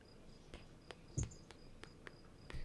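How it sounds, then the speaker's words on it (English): A cricket chirps steadily in the background of an indoor room, its faint repeated high pulses coming at a regular pace with no talk over them. "That cricket in the background is frying me."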